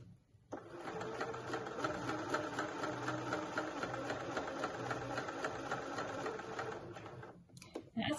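Sewing machine stitching a dart in a dress. After a brief quiet start, a close, steady whir with a fast needle rhythm runs for about seven seconds, then stops abruptly.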